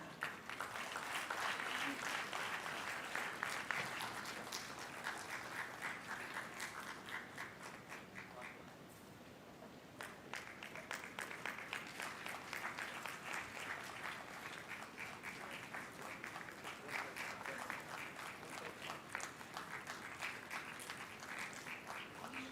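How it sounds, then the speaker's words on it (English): Award-ceremony audience applauding bank award winners, a steady dense patter of clapping that runs for the whole stretch and dips briefly midway before resuming at a similar level. "a huge round of applause for all of them, ladies and gentlemen"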